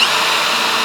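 A power drill bores holes on a house construction site, a brief, steady whirring whine held at an even pitch for just under a second, close and fairly loud with no voices.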